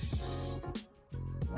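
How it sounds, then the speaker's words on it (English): Hairspray hisses from a can onto styled waves in a close, loud burst, stopping briefly, then spraying again. "I'll spray it with a little bit of hairspray"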